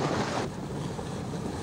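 Sailboats racing a triangle course in a classic regatta off the Croatian coast, with steady wind and wash of waves; a louder gust in the first half-second, then a continuous low rushing of wind and water.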